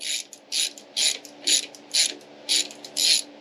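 A ratchet loosens 10mm screws on the front bumper of a Lexus RC F being prepared for a supercharger, with seven crisp, evenly spaced clicking bursts close by.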